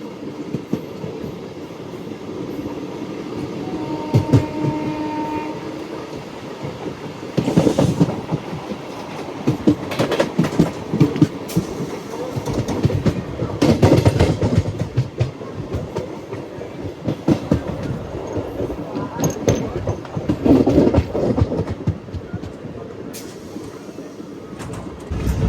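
A MEMU passenger train runs on rails near a rural station, its wheels clattering in a steady rolling rhythm with rumbling carriage noise and occasional louder bumps throughout, no talking.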